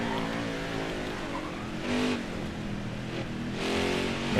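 Simulated pickup truck racing at Mid-Ohio in NASCAR Heat 5, with a continuous engine drone that swells briefly a couple of times as it exits corners, at moderate level with no talk.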